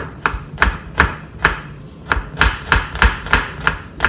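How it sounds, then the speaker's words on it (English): A knife roughly chops onion and garlic on a board, about a dozen crisp, close knocks in an uneven rhythm, with no talking. "Just roughly chop them"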